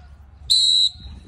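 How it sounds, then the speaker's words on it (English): A single sharp, high whistle blast used in dog recall training, loud and close, lasting under half a second against a quiet outdoor background. "when I blow the whistle"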